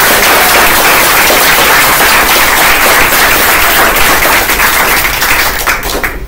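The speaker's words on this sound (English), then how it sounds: "Let's give a round of applause for her." Loud, close applause from a class audience after a group presentation, dense clapping that holds steady and begins to thin out near the end.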